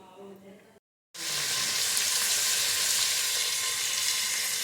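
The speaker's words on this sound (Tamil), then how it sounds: "சோம்பு பொரிய ஆரம்பித்தோடனே நம்ம கட் பண்ணி வச்சுருக்கிற வெங்காயத்தை ஆட் பண்ணிக்கலாம்" Sliced onions dropped into hot oil with crackling fennel seeds for chicken biryani, a brief quieter sizzle, a short gap, then a loud continuous close frying hiss.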